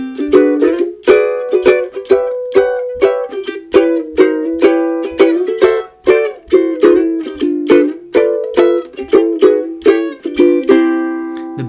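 Ukulele strumming a sequence of rich ninth chords in a steady, bouncy rhythm, each strum bright and ringing, played solo with no voices.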